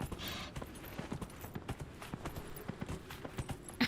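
A horse's hooves clip-clop in a steady, quiet rhythm as it walks across open plains in Dragon Age: Inquisition, the beats evenly spaced and faint throughout.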